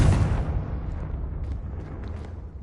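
A Confringo blasting spell from Hogwarts Legacy goes off with one loud, deep boom at the start, then fades into a long rumbling tail with faint crackles.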